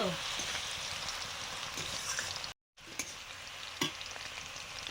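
Ash gourd frying with mustard paste in a pan, a steady loud sizzle with stirring scrapes, briefly cut off midway, then resuming.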